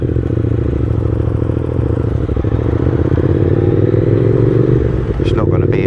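A Triumph Speed Twin 1200 motorcycle rumbles loud and close with a steady, deep engine throb as it sets off, continuing without a break under a speaking voice.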